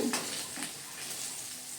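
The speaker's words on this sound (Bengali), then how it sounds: "আলুগুলোকেও আমরা হালকা লাল লাল করে ভেজে নেব" Potatoes hiss and sizzle in hot oil in a wok while a utensil scrapes and stirs briefly up close.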